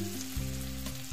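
Onions sizzle steadily in homemade desi ghee on a low gas flame, a constant close frying hiss with no one speaking.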